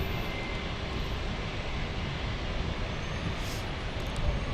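A JetBlue Airbus A321 rolls for takeoff, its jet engines making a steady, loud, broadband roar that holds evenly throughout with no voices.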